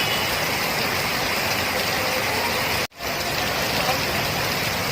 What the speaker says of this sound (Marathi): पाऊस खूपच जोरात पडतो